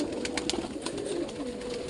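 Pigeons coo softly and steadily close by, low throaty calls repeating over a light background hum, with no talking.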